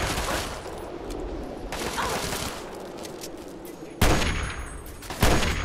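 Gunfire in the video game Fallout 3 sounds as a steady, dense barrage of shots. Two sharper, louder blasts break through near the end.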